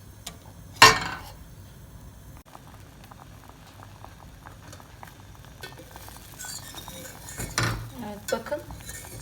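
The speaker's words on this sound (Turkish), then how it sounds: "Şimdi hafif hafif karıştırarak krema kıvamına gelmesini sağlıyorum." Cream mixture being stirred in a pot on the stove for a French sourdough raisin pastry filling, with a sharp clink of the utensil against the pot early on, then faint scraping and soft bubbling, and a few more clatters near the end.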